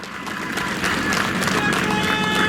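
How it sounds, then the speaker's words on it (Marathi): A crowd at an outdoor political rally in Pandharpur, Solapur, claps and cheers in a steady, dense wash of applause that holds at an even level throughout. "तुमच्यासाठी जोरदार टाळ्या झाल्या पाहिजे"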